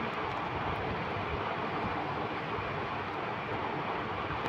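Steady broadband rotor-and-engine drone of a police helicopter in a video game, constant and fairly loud throughout with no talking.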